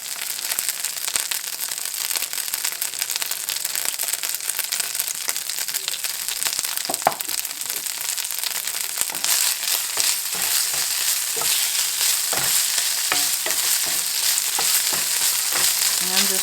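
Cooked dried hominy, seasoned with pepper, fries in bacon grease in a pan, a loud, dense crackling sizzle running steadily throughout with scattered sharp pops and spatters, close up and with no talk.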